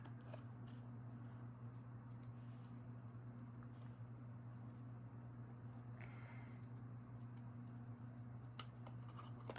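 Scissors trimming a paper book-page journal card, with faint, irregular snips and paper rustles over a steady low electrical hum.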